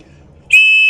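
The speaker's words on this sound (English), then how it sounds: "A whistle." Someone blows the whistle on an Opinel knife lanyard once. After a near-silent moment it gives a loud, piercing, sustained high tone up close.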